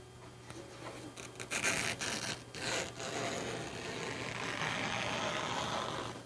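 Fabric being cut with scissors along its natural fold: soft, close rasping snips in a short burst, then a continuous low swish, quiet and with no talk.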